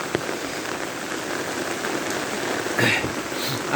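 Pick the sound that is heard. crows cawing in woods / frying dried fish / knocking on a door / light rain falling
light rain falling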